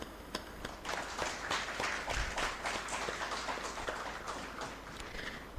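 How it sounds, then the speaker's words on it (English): Audience applause at a college conference at Maitreyi College, a steady patter of many hands clapping in a hall, moderately quiet and continuous with individual claps standing out. "May I invite all of you to please join me in applauding the efforts."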